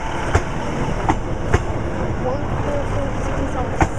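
A Class 156 passenger train passing close by, a continuous loud rumble of rolling wheels with sharp rhythmic clicks as wheels cross rail joints, and a voice speaking briefly over the noise.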